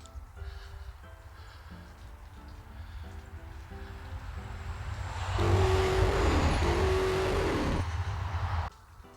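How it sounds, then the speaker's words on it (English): Road traffic passing near a roadside spring in the Ozark Mountains: a steady low rumble that builds into a loud close vehicle pass-by with tonal horn-like notes before cutting off. "it is noisy at certain times of the day due to the traffic being so close"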